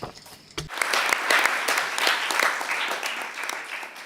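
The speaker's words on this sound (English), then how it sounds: "I want to give a round of applause for our interpreters for their hard work" A forum audience applauds its interpreters with a burst of dense clapping that starts sharply and holds steady. A brief voice is heard just before the clapping begins.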